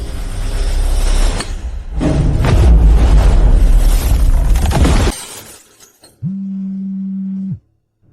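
A loud crash of shattering glass and debris lasting several seconds, fading out, followed by a steady low synthetic tone.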